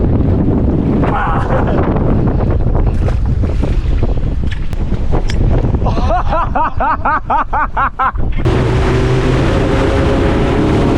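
Strong wind roars across the microphone at a Fiji island fishing and surf resort, loud and unbroken, with fluttering bursts and a sudden shift near the end.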